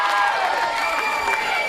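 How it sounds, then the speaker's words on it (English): A wrestling crowd cheers and shouts in a dense, loud roar that holds steady through a short burst. "And the crowd here loves every single second of it."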